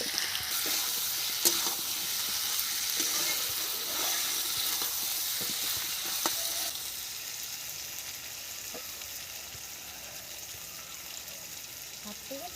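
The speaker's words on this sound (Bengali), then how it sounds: "মশলাটা ভাজা হোক" Spice masala fries in a pan for a village-style jackfruit curry, sizzling steadily and close with occasional stirring scrapes and clicks, then dropping to a quieter hiss partway through.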